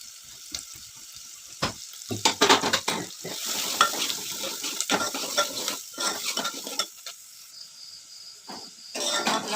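Two large chopped onions fry and are stirred in a pan for pav bhaji: a hissing sizzle runs throughout, broken by frequent scraping and clattering strokes of a spatula against the metal, close and fairly loud, with no speech.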